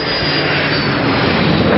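Airplane engines roar steadily and loudly during takeoff, a dense, unbroken rumble that fills the whole moment without pause.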